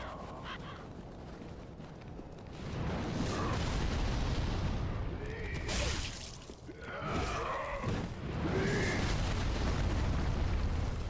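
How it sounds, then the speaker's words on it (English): Barrels explode in the Dark Souls III video game, in an area with firebomb throwers: deep rumbling booms and bursts swell over a steady roar, with crackling debris and fiery whooshes through several seconds. "I don't know why you'd think the random barrels wouldn't explode in the area with a bunch of firebomb throwers."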